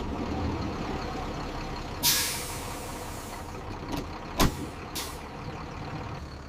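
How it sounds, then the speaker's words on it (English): A university bus pulls up and halts over a low engine rumble, with a sharp burst of air-brake hiss followed by a few shorter pneumatic hisses and clunks nearby. "The university bus will come soon."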